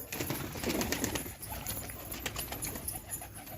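A pigeon coos softly among faint outdoor background noise, with a brief rustle of movement nearby.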